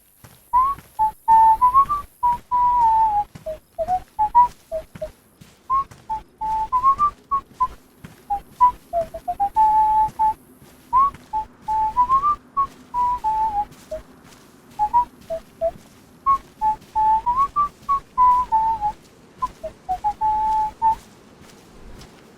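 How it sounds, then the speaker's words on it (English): A person whistles a wandering, repeated melody at a relaxed, cheerful pace, in short phrases with brief gaps. The whistling is clear and close, with no talking. "I even allowed myself some whistling"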